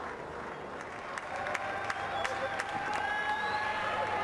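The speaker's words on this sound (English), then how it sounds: "VVS Laxman is clapping his effort" Crowd at a cricket Test match in Multan, India versus Pakistan, applauds a batsman's record innings; faint, distant continuous clapping with scattered sharper claps and a commentator's voice faintly present.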